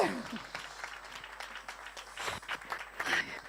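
An audience at a Catalan stand-up comedy contest claps lightly and unevenly, fairly faint and sparse, with scattered louder claps and some voices mixed in.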